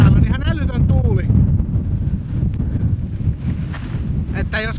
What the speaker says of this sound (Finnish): Hirveä tuuli täällä on, ihan älytön tuuli.